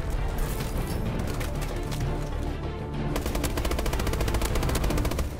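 Rapid automatic gunfire from a weapon in the video game Call of Duty: Advanced Warfare, dense, loud and close, in continuous rattling bursts that speed into a steady stream toward the end.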